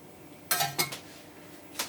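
Mushrooms dropped into a cooking pan make a few quick clattering clinks and thuds, a couple close together and one more a moment later, fairly loud and close with no talking.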